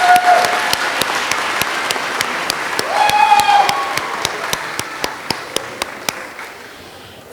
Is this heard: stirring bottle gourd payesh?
no